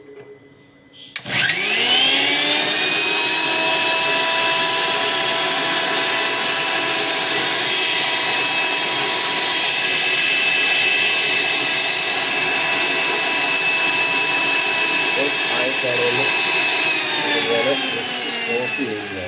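A mixie grinder grinding chillies for chammanthi starts up sharply and runs as a loud, steady whining roar that holds for the rest of the clip without pause.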